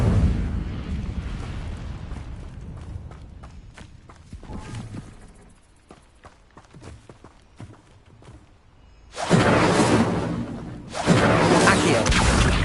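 A fiery Incendio spell in Hogwarts Legacy roars up as a broad rushing burst, fades into quieter crackling and scattered clatter, then flares again in two loud whooshing blasts near the end.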